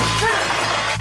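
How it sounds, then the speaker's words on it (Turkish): A glass window smashes in a single loud, sharp crash that fills the brief moment, with a short ringing shatter trailing off. "Oğlum adam camı nasıl kırdı gördünüz mü?"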